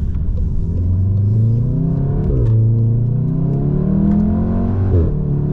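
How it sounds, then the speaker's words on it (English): VW Golf with DSG gearbox and resonator-deleted exhaust, its engine droning steadily and loudly from inside the car, rising in pitch through the revs with quick shift drops between gears. "Resonator delete sounds amazing."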